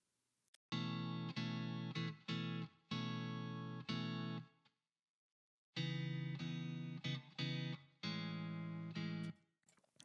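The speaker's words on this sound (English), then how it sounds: "So we have our original track, strat, everything I'm doing is strat, a little bit of reverb already on there" A Stratocaster electric guitar with light reverb plays clean, sustained chords in short rhythmic phrases, with a brief silent gap midway; no voices.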